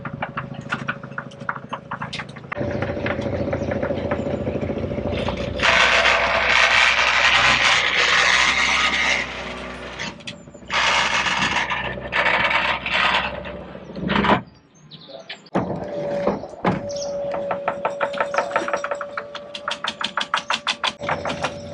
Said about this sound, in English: stainless steel chain driven drive with hydraulic motor, proven to be very reliable